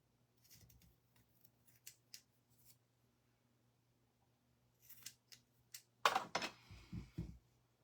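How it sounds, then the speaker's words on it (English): Scissors snip paper for a recycled DIY craft, soft scattered cuts at first, then several louder, close, crisp snips in quick succession near the end over a faint steady hum. "We're just gonna snip this evenly."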